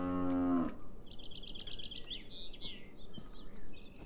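A cow in the video game Beyond Eyes lets out a short, loud moo that cuts off early, followed by a few seconds of chirping birds and soft ambient background.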